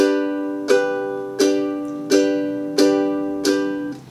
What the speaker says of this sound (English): We're gonna be using a very basic strumming on the beat